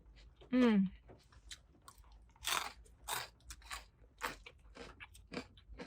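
Loud, close crunching as Caesar salad croutons are bitten and chewed in repeated bursts, after a brief vocal sound at the start.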